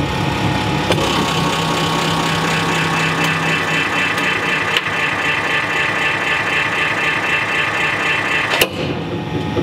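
A 200 ton hydraulic press crushing a titanium bolt gives a loud, continuous droning hum with a few sharp cracks and snaps breaking through, ending in one abrupt bang before the drone eases.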